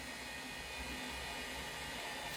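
A small 12-volt water pump for a solar-powered battery setup runs with a steady, even electric whine and hum, close and continuous from start to finish with no voices.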